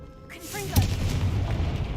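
A Confringo spell explosion in Hogwarts Legacy lands as a deep, booming burst with a rushing whoosh just before it, then a lingering low rumble that fills the rest of the moment.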